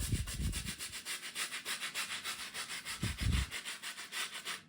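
Close, steady back-and-forth scrubbing of a small bristle nail brush on a rhinestone phone case with foam, rhythmic rubbing strokes about three per second, with a couple of brief wetter bursts, no talking.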